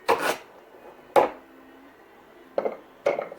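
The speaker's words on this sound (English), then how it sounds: "I just cut into 1/2-inch chunks." A knife chopping through fresh horseradish root into half-inch chunks, four crisp, separate cuts at uneven intervals, close and fairly quiet, with faint rustling between them.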